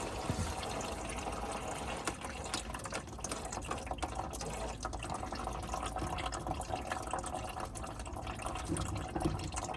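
Coolant draining from a 2021 Chevy Colorado V6 into a drain pan during thermostat replacement, a steady close trickling stream of liquid running continuously with no speech.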